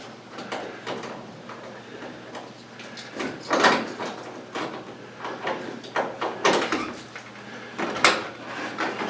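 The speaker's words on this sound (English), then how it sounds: "Swing that door wide open, Ed." A wooden door to the great organ chamber of an old church pipe organ swings open, giving a run of creaks, knocks and wooden scrapes that come in repeated bursts close by, with no talk over them.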